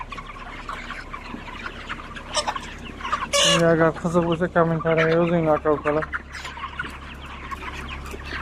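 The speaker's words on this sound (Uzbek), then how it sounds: "Mashnaqa bo'ladi jo'jalar." 32-day-old chicks cluck and peep close by while someone talks over them, with a louder burst of fowl calls in the middle.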